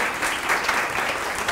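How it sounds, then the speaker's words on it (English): Audience at a nanotechnology conference day giving a round of applause, steady dense clapping from many hands throughout a short burst. "let's give her another round of applause."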